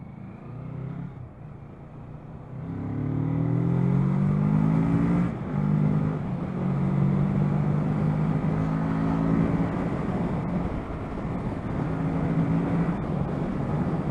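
A 2019 Kawasaki Z650 motorcycle rides through traffic at close range. Its engine hums at idle, then revs up in a strong rising drone, eases, and pulls again through repeated gear changes.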